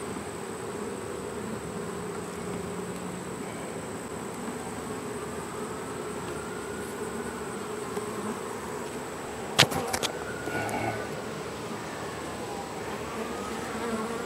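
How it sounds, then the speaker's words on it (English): Robber bees buzz around hive frames set out in the open, a faint continuous insect drone with a few wing tones rising and falling, broken briefly by a sharp click near the end. "I don't know if these are robber bees on these frames I set out here or not."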